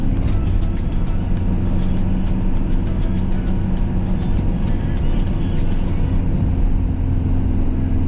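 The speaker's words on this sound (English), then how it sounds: "can probably hear the engine note change on the van" A van engine labours steadily up Sutton Bank in third gear, a loud continuous rumbling drone heard from inside, with faint clicking above it.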